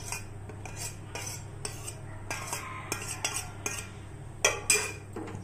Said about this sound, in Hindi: डालकर इसको अच्छी तरह से चला लेंगे